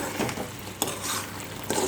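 A spoon stirs bottle gourd and carrot halwa with crushed cardamom and melting sugar in a pan, giving soft scraping strokes with faint sizzling in a short, close burst without talking.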